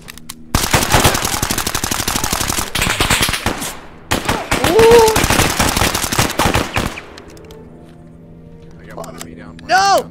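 Rapid automatic gunfire and heavy shooting from a military shooter game's mortar battle, loud bursts filling most of the stretch with a lull near the end, while someone talks over parts of it.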